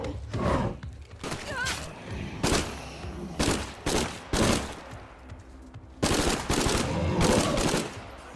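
Rapid bursts of gunfire from a Heartland shooter game, loud and repeated, several clusters of shots spread across the stretch with short gaps, ending in a long sustained volley, with a voice talking faintly in places.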